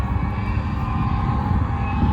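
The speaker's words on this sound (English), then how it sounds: "We've been seeing planes take off for the last hour." Propeller airplanes taking off at EAA AirVenture Oshkosh in early morning, a steady loud low engine drone and hum filling the air continuously without a break.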